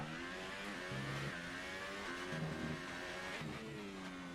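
Screaming high-revving Formula 1 engine of a McLaren in the F1 2018 racing game, lapping the Spain circuit at full throttle, with rising gear-shift sweeps and steady loud drive throughout.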